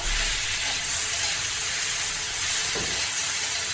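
Tomatoes with salt sauté in a hot pan for a tomato and chili thecha, giving a dense, steady hiss that runs without a break throughout, loud and close, with no talking.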